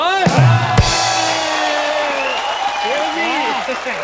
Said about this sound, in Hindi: ताली पीट रहे हो